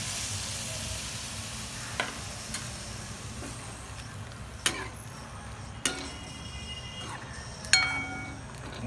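Dal (varan) poured into steamed spinach in a pan and stirred, giving a soft continuous simmering hiss punctuated by several distinct clinks of a spoon against the pan.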